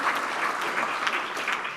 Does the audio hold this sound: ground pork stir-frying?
no